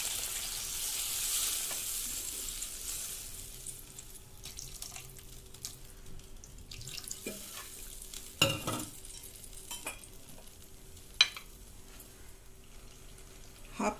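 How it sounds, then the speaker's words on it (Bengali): Water poured into a pan of fried rohu fish, a loud hiss and rush of sizzling that fades to a quieter bubbling simmer, with a few clinks of a utensil. "ভাজা হয়ে গেছে, এবার আমি জল দিয়ে দিচ্ছি"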